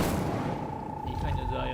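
The Incendio fire spell is cast in the video game Hogwarts Legacy: a sharp, booming burst at the start fades into a sustained hum, with a brief voice underneath.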